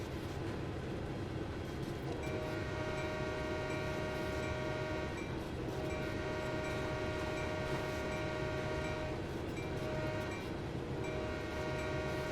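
A locomotive running in Train Sim World 4 on a Toronto shunting route, a steady rumbling drone of engine and rails with a sustained tonal hum, continuous and unbroken throughout.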